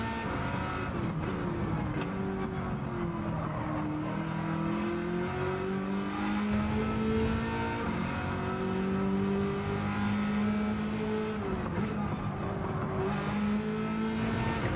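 An American muscle car engine revs in a racing video game, a steady, close drone whose pitch climbs and drops through several gear shifts while it runs continuously without any talk.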